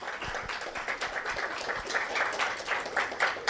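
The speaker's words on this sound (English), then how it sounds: "Please give them all a round of applause." An audience clapping for lecturers at a Lambda Pi Eta induction ceremony, a dense, steady patter of many hands at moderate loudness with no voices over it.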